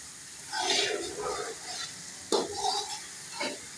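Potato and capsicum bhujia is stirred in a pan with the flame off, producing intermittent scraping and shuffling strokes with a soft sizzle, one sharp clink of the spoon against the pan midway.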